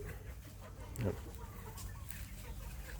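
Young Burmese game-fowl chicks in a free-range yard giving faint clucks and peeps, with one louder call near the middle over low outdoor background noise.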